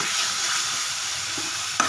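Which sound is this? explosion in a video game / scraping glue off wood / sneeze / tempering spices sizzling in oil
tempering spices sizzling in oil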